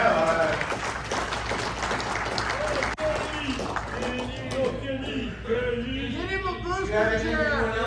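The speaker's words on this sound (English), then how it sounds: "give him a big round of applause, guys" A live audience at a comedy-style stage show in Sheridan, Wyoming claps in a dense burst of applause that gradually thins out, with people talking and calling out over and after it.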